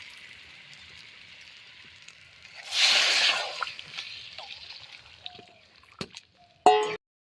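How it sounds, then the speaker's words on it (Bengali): Hot water poured into a pan of mutton curry with potatoes gives a loud bubbling, hissing splash that swells briefly and fades, followed by a few sharp clinks of the pot near the end. "এবারে একটু গরম জল দিয়ে দেবো।"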